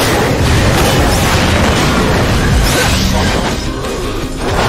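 Evo creature blowing up in the Generator Rex video game, a loud, dense blast with whooshing debris that roars on for several seconds before easing slightly.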